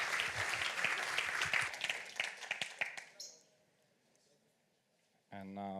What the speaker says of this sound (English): So another round of applause, and let's have him on stage.